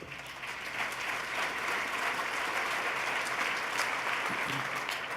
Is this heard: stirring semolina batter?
no